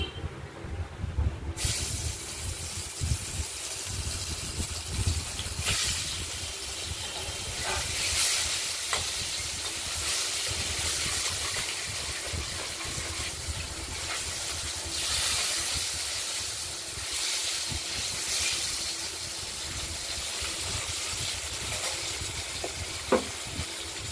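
Katla fish pieces rubbed with salt and turmeric fry in hot oil, a loud continuous sizzle and hiss that runs steadily throughout, with occasional sharper spatters and stirring sounds.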